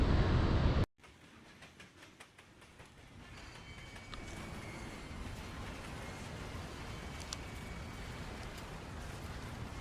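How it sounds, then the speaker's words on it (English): After a sudden cut, a train rumbles steadily past with a continuous low roar and faint rhythmic wheel clatter. No voices. "Sounded like a train wreck."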